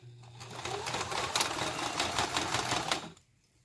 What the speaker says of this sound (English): just stick it under your machine and sew very close to the edge, about 1/8 of an inch